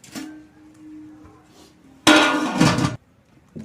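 A metal lid set down over a pot of basmati biryani rice on a wood fire, one short clattering clang after a quieter stretch, close and brief.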